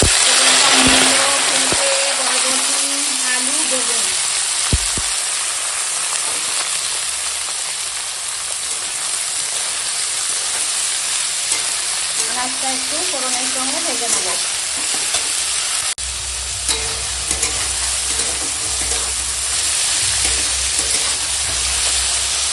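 Vegetables sizzle loudly in hot oil with fried whole spices, with steady stirring, while a voice talks intermittently over the constant frying hiss.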